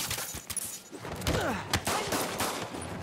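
Gunfire bursts in Marvel's Spider-Man on PS4, several sharp cracks and thuds scattered over busy combat noise, with impacts and whooshes, loud and close.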